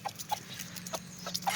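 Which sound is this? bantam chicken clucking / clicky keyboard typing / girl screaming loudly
bantam chicken clucking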